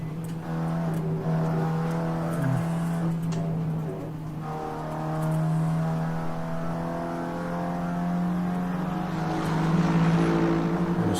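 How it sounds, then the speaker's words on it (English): Aston Martin race car in a racing video game on the Nordschleife, its engine droning steadily with harmonic tones rising and falling through shifts, loud and continuous throughout with no talk. "Unmistakable sound of the Aston Martin."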